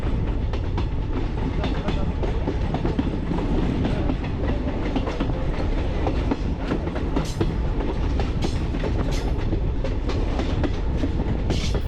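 The Kanchenjunga Express rumbles across the New Farakka Barrage in a loud, steady roar from inside the train, with continuous rattling wheels and faint clicks of the rails throughout.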